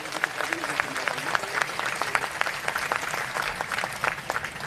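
An audience at a Jain religious gathering claps steadily throughout, producing a moderate, even patter of many hands, with a voice faintly audible over it.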